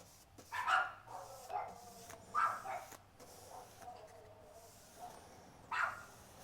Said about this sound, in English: Hear my dogs in the background.